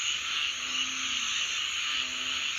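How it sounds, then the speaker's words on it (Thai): Narrow-mouthed frogs call at night beside a pond: two faint, low croaks stand out against a steady wash of insect noise. "อึ่งร้องเพียบเลยนะครับ"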